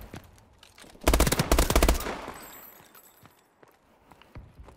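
Automatic gunfire from a video game capture-the-flag match: a dense, loud burst of rapid shots lasting about a second, fading into a quieter tail with a few scattered clicks afterward.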